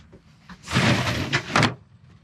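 A storage drawer on a 2021 Kenworth T880 tow truck with an NRC wrecker body slides open in one close, clattering metallic burst about a second long, with quiet background before and after.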